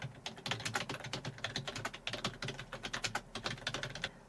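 Fingers type steadily and quickly on a computer keyboard to enter a prompt, producing a dense run of close, crisp key clicks with no pauses.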